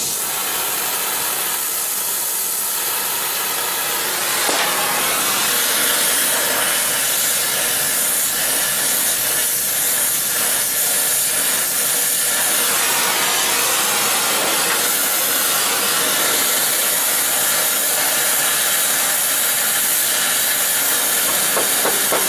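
A slightly clogged sprayer nozzle forces out water in a loud, continuous close hiss, with brief dips and surges in the spray over about twenty seconds.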